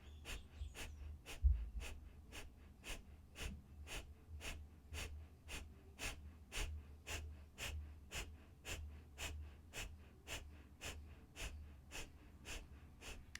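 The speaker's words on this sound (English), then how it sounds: "Find that quick, rapid breath." Rapid, evenly spaced sharp breaths of breath-of-fire yoga breathing, about two per second, steady and close throughout with a low hum underneath.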